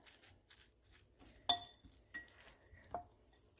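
Manicotti filling is mixed in a dish, giving a few sharp clinks of a utensil against the bowl and soft scraping stirs, quiet and close with gaps between the strikes.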